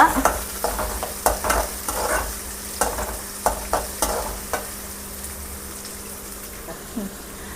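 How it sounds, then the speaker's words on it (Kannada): Chopped onion frying in a pan for a village-style egg and moringa leaf stir-fry, a steady sizzle broken by repeated scraping and stirring knocks, close and fairly loud. "ಇದು ಸ್ವಲ್ಪ ಗೋಲ್ಡನ್ ಬ್ರೌನ್ ಆಗೋವರೆಗೂ ಚೆನ್ನಾಗಿ ಫ್ರೈ ಮಾಡ್ಕೊಬೇಕು ಇದನ್ನು, ಆನಿಯನ್ನ."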